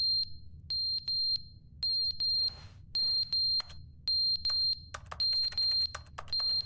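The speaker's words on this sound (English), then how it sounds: "That's a fire alarm." Fire alarm in the video game Stanley, loud repeated high electronic beeps in evenly spaced bursts, some quick clicks between them, no talking.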